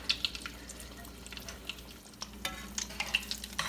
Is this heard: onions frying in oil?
yes